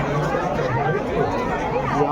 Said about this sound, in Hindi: यहाँ भी बहुत तगड़ी भीड़ है।